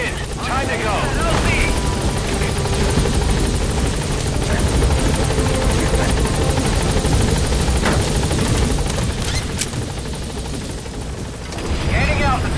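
The B-Quad helicopter arrives at a landing zone in Afghanistan in Metal Gear Solid V, a loud continuous rotor thrum and engine roar close by throughout, with occasional distant gunfire and voices talking over it.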